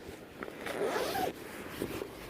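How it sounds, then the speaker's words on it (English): Zip on a Dutch army hooped bivvy, on a damp beach wild camp, being drawn: one close, quiet zipping pull of about a second, with faint rustling before and after and no talk. "These two bivvies have issues with the zips."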